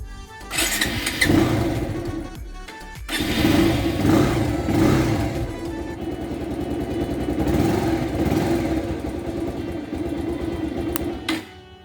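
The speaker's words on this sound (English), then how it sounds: "the motorcycle is running, the engine is working" A Bajaj Pulsar 220F motorcycle with a wiring problem idles in neutral up close, its rough rhythmic putter running throughout with slight rises and dips, then cutting out at the end.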